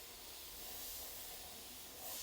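A Gaahleri GHAC-98D airbrush spraying well-thinned paint at low pressure produces a faint, steady airy hiss that swells slightly near the end.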